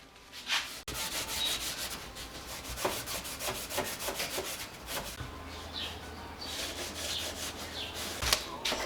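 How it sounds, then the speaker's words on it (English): A Scotch-Brite pad scuffs the mating surface of a V8 cylinder head and block, producing steady close rasping strokes in a rapid back-and-forth rhythm that continue throughout, preceded by a brief knock at the start. "I'm just gonna scuff up the mating surface with some Scotch-Brite, scuff up the block"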